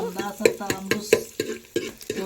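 Onions fry in a pan for a chicken dish while a spoon stirs them in a steady rhythm of about eight scraping strokes over a soft sizzle, close and alone.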